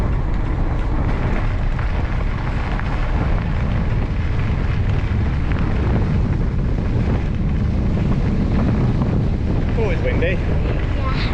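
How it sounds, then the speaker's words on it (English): Steady, loud wind buffeting the microphone during a bike ride along a canal, a constant low roar throughout with no break. "Windy."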